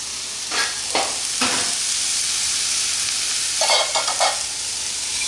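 Mushrooms cooking in a pan for vegan spaghetti give a continuous bright sizzle and hiss, with a few brief scraping stirs early on and a short cluster of utensil clatter near the end, no talking.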